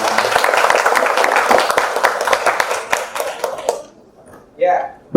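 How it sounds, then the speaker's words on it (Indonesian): Audience of students at a school event claps in a loud, dense burst of applause that tapers off, followed by a short final flurry of claps. "Beri aplaus untuk kita semua."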